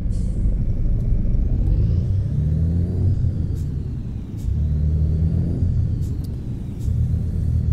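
A Mercedes-Benz Atego 2425 truck drives in Euro Truck Simulator 2, its steady low engine rumble and drone continuous and loud. Faint thin whines and brief clicks sit above it, with no voices.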